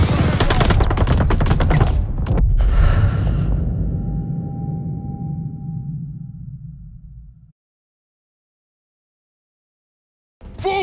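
Dense burst of machine gun fire in Call of Duty: Vanguard, loud and close, rattling for about two seconds and then trailing into echoing rumble that fades into silence before a brief new sound at the end.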